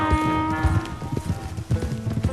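Horse hooves clip-clopping at a steady trot in the Red Dead Redemption 2 video game, close and fairly loud over a low music bed, with a brief whinny-like tone.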